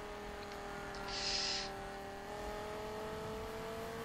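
A car engine holds a steady drone while tires squeal in a drift in Need for Speed 2016, with a brief hissing swell of tire noise in the middle and no talk.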